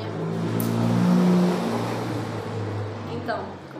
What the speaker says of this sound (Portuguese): Muito carro aqui na minha rua.